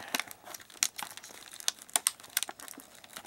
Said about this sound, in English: Okay, I'll wrap the plastic thing.